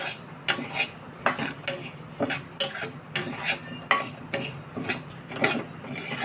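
Dal roasting in a pan over a medium flame for metkut is stirred with a utensil, making repeated close scraping and clinking strokes at a steady rhythm over a faint background hiss.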